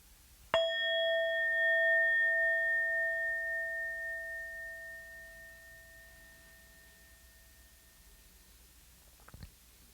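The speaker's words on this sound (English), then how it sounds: "whenever you hear the sound of the bell, just allow that to be the reminder" A single meditation bell is struck once, its clear metallic tone ringing out and slowly decaying over several seconds in a quiet room, followed near the end by a faint brief clatter.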